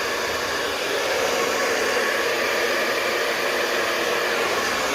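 A hair dryer blows steadily and loudly while hair is styled with a brush, a continuous broadband whoosh with no pauses or voices.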